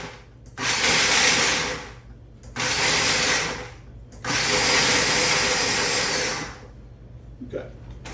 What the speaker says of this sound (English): I'm going to go ahead and add those into my mixer, or my food processor, not mixer. And we're going to pulse it a few times.